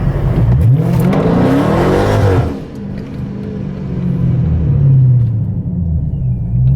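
A Procharged Dodge Scat Pack on drag radials warms up its tires: a loud, close engine rumble revs up and holds, dips briefly, then swells again into a steady roar.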